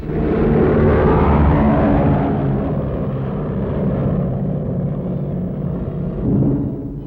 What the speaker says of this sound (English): a four-engine plane has been handled by remote radio control, flying without a crew